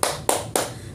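Three sharp claps come in a steady, even rhythm during a children's hand-clapping game with a mother and her young daughter, loud and close with no voices.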